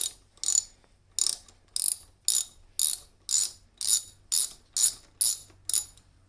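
A ratchet clicks through about a dozen evenly spaced strokes while a bolt on a steel braided brake line of a Yamaha R1 motorcycle is worked, each crisp metallic burst close and distinct with no talking.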